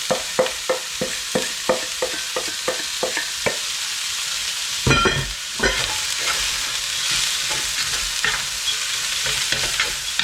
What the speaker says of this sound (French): J'ajoute ma viande hachée.